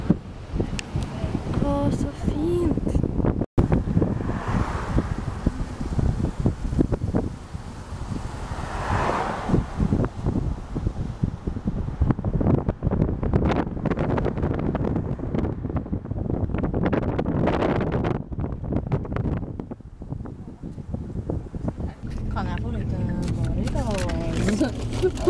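Steady wind rumbles and buffets against the microphone outdoors in Miami throughout, mixed with outdoor background noise and people talking intermittently.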